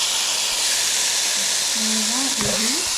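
A steady, bright sizzling hiss of oil in a pan runs throughout, with a few brief faint tonal sounds rising over it near the end.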